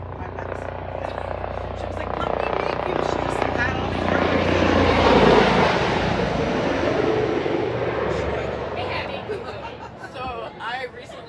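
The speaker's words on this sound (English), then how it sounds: "we constantly have an OB moment when the planes are going over" A plane passes over Ocean Beach, San Diego, on the flight path, a loud roar that swells to a peak midway and fades away, heard under people talking.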